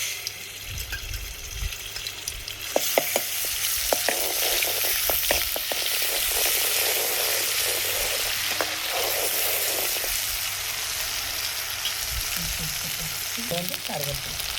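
Ginger paste frying in oil for a village-style coconut prawn curry makes a steady, fairly loud sizzle, with spoon taps and stirring clicks in the middle and a few faint clinks near the end.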